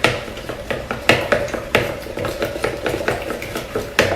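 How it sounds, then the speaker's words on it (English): A whisk beats an egg mixture with onion in a bowl, giving quick irregular clinks and taps of metal against the bowl, close and fairly soft, with no talking. "I'm gonna whisk that up real quick."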